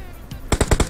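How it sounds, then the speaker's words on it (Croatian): Gunfire in PUBG Mobile: a rapid burst of about five loud, close shots in quick succession after a brief quieter pop. "gore se puca"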